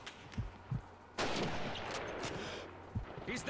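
Rifle gunshots ring out in a Call of Duty 2 Stalingrad battle, a few sharp cracks followed by a longer burst of gunfire and reverberating battle noise.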